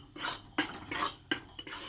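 Besan being stirred in a pan for laddu, heard as rhythmic scraping strokes of a spatula against the metal, with clanking at the start of each stroke, repeated about four times, close up.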